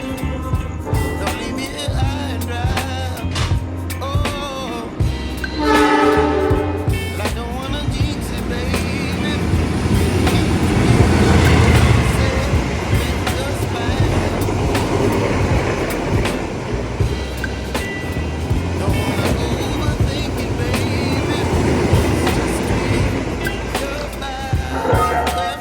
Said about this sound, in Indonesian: kita akan menyaksikan Argo Dwi Pangga berjalan langsung di stasiun Kebumen